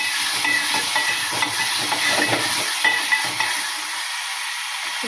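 Tomatoes frying in a pan while being stirred and mixed, a steady close hiss and sizzle with soft scraping strokes, fading slightly near the end.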